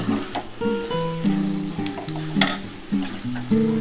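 Spice masala with tomato fries in a pan while being stirred, a close sizzle with occasional scraping strokes, under steady background music tones and no talk.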